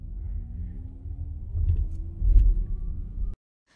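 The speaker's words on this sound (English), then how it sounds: "엑셀을 밟아야지 올라갑니다" Hyundai Ioniq 5 electric car accelerating up a steep hill, a low road rumble with a faint rising motor whine that swells midway and then stops abruptly.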